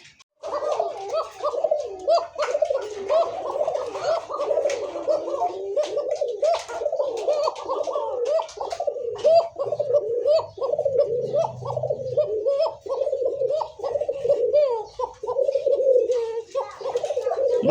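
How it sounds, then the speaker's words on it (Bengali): Pigeons kept for their call, a paired coo, repeatedly cooing in steady rolling phrases close by for the whole stretch, with faint chirps and background noise underneath. "ডাকের কবুতর তো এটা হলো ডাক, যেটা জোড়া নাম্বার ডাক ডাকতেছে"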